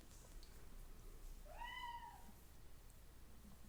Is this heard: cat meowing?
yes